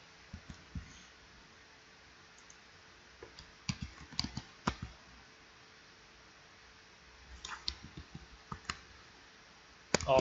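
Quiet clicks of computer keyboard keys come in short bursts separated by pauses, close and faint, while code is typed, with no talk.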